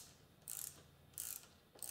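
Ratchet snugging down the cam journal caps on a Kawasaki KZ650 motorcycle: three short bursts of quick clicking, close and fairly quiet, with brief pauses between them and no talking.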